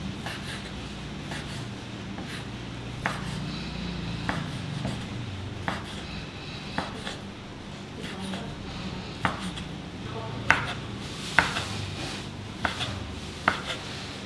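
A knife cuts a rolled omelette into pieces on a board, giving sharp spaced chops that come faster and louder toward the end over a steady background hum.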